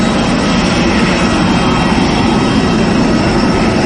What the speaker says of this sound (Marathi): विमानाचा एवढा आवाज आहे ना खतरनाक